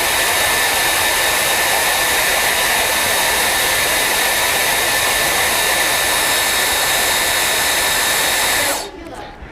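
A loud hair dryer runs steadily with a strained high whine, then cuts off abruptly near the end.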